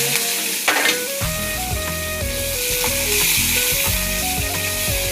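Onions, dried red chillies and curry leaves frying in hot oil after mustard seeds and cumin have popped, a loud continuous sizzle with stirring under a steady tonal background music line.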